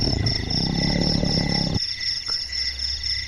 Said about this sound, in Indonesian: mengeluarkan suara auman yang mirip harimau